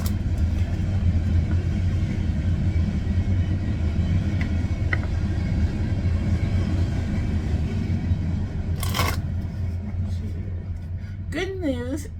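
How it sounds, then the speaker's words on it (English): Short freight train passing near a home, a steady heavy rumble and rolling rail noise filling the whole stretch, with a brief horn-like burst near the end, and no voice over it. "Good news, that was a short train."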